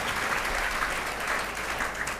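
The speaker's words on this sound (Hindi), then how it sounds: "जोरदार ताली से स्वागत करते हैं" A seminar audience applauds steadily and loudly to welcome a speaker, a dense wash of many clapping hands with no talk over it.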